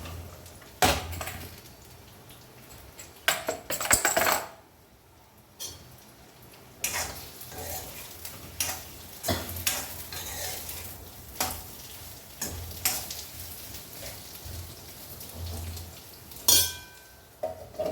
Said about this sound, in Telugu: ఇప్పుడు కట్ చేసి పెట్టుకున్న బీరకాయ ముక్కలు ఉన్నాయి కదా ఇవి వేయించేస్తాను